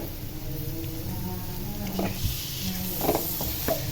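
Mashed potato and egg are stirred into cutlet masala in a pan, close scraping strokes of a spoon over a soft oily sizzle, with a few sharper knocks of the utensil toward the end.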